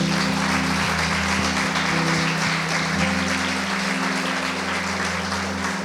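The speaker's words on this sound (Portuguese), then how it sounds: "Vamos aplaudir Jesus." A church congregation applauds Jesus at the close of a prayer, sustained steady clapping from many hands filling the room for the full stretch, with a low hum underneath and no speech.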